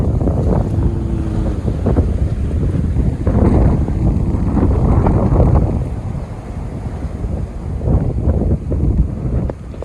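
Strong wind roars and buffets the microphone in a constant low rumble, gusting slightly stronger at times, with no talking.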